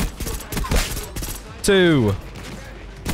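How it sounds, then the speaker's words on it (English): Rapid bursts of AEK rifle fire with a Rapidfire attachment in Black Ops 6 on the Nuketown map, sharp cracks mixed in with a player talking and a brief tonal game effect. "Most overpowered gun in Black Ops 6, which is the AEK with Rapidfire"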